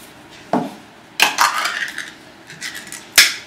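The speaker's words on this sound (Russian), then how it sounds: "Добавляем также немного обычной баночной кукурузы." Canned corn being added to a container of steamed grain carp bait, a few clattering knocks and scraping clinks of metal and kernels, close and fairly sharp.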